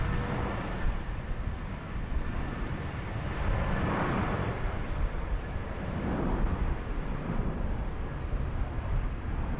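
A Jetstar jet airliner at Sydney Airport gives off a steady, broad engine roar that holds at an even loudness throughout, with no talk over it.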